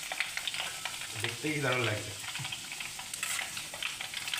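Rice frying in a pan on a gas stove for homemade chanachur, a steady close sizzle and crackle with stirring throughout, one louder swell midway, and a voice speaking briefly over it.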